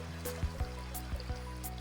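Water trickles and gurgles steadily as a Sawyer filter is rinsed in a mountain stream in Fall Creek Falls State Park, Tennessee, with soft rhythmic knocks and splashes repeating every half second or so.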